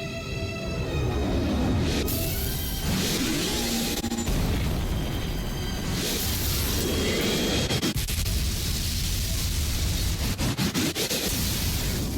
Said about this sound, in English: Epic explosion!